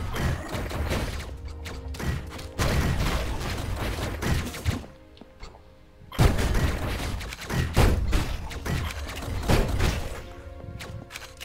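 Bursts of enemy gunfire in Hyper Light Drifter, loud and close, firing in rapid clustered volleys with thuds and impacts between them across two main barrages.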